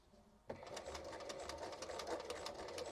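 A sewing machine stitches a Victorian skirt, starting abruptly and then running steadily in a fast, even mechanical whir close by.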